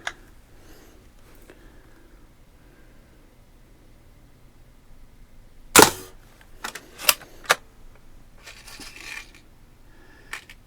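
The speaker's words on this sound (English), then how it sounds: "Let's shoot the second one, the top left-hand leprechaun." Shots fired at a leprechaun target on a St Patrick's Day shooting challenge: a sharp crack near the middle, then a few quieter snaps and clicks after it, over a quiet background.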